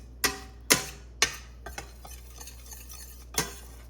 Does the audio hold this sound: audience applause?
no